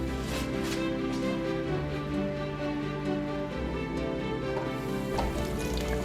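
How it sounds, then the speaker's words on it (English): Vegan fried chicken sizzles in a deep fryer with a steady crackling fizz, partly under tonal background music, with no talk. "Then we're gonna take these over to the fryer and fry them up."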